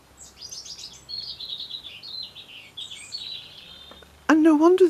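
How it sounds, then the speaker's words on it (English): Birds chirp and twitter steadily at a moderate distance in open air, then a louder close sound cuts in abruptly near the end. "And no wonder the birds are singing."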